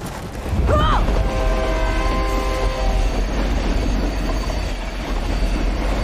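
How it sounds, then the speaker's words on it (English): A train in the video game Fast & Furious Crossroads rushes past with a loud, steady rumble and squealing wheels, a brief rising whistle-like screech near the start, then continuous clattering roar. "How are we supposed to catch a speeding train?"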